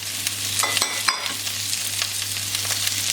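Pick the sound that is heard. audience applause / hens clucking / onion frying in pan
onion frying in pan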